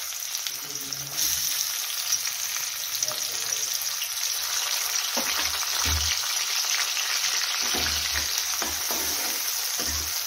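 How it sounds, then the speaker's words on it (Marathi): Onion sizzling in hot oil in a pan for a bean curry, a steady bright crackle throughout with a few soft stirring knocks underneath, no talking. "कांदा छान असा फ्राय करून घेऊया."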